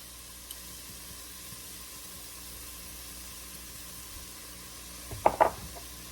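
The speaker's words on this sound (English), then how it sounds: "Give it a stir so it gets nice and coated with the olive oil." Beef cooking in olive oil in a pot for beef barley soup gives a faint, steady sizzle, broken near the end by a short clatter of stirring.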